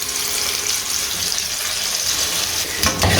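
Fried boneless chicken pieces tipped into a handi pot of sizzling garlic paste, a steady close hiss of frying that flares briefly louder near the end.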